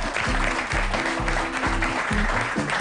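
An audience applauds at a comedy and magic show, with steady, continuous clapping mixed with a loud pulsing musical beat underneath.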